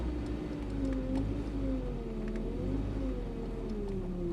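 Old car pulling away in first gear just after a cold start, engine note rising steadily from a low idle rumble; close, continuous and fairly loud, with no talking.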